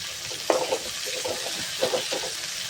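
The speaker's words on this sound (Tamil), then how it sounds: "இது கொஞ்சம் தக்காளி வதங்கிக்கும்." Tomato paste with a pinch of salt sizzles in a hot pan while a spatula stirs it, giving a soft steady fry with a few scraping knocks.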